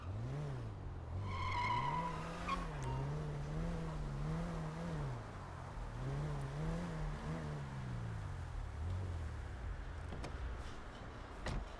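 Stolen car in GTA 5 revving and driving, its engine note rising and falling in waves with a brief tire squeal near the start, loud and continuous throughout.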